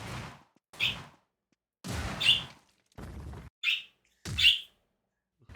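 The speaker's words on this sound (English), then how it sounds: "Listen to the excited birds." Excited birds in the video game Wizard of Legend, several separate bursts of bright chirping and rustling, each about half a second long, close and clear with short silences between them.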